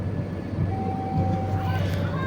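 The Cikuray passenger train runs through the Sasaksaat tunnel on the Bandung–Jakarta line, giving a loud, enclosed, steady rumble of wheels and rails throughout.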